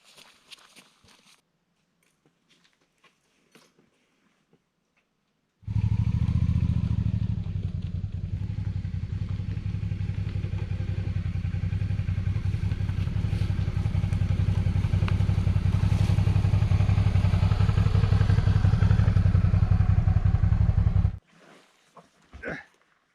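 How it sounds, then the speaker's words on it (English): A motorcycle is ridden down through bush to a campsite picnic table near the Fort George Canyon Trail. After a quiet start, its engine runs loud and steady for about fifteen seconds, then cuts off abruptly. "I'm going to bring my bike down, so figure out how to get the bike through the bush and down to the picnic table"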